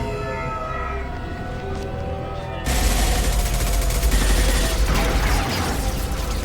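Gunfire in Mass Effect 2 erupts suddenly partway through and rolls on as a loud, dense barrage over a droning game backdrop; no one speaks.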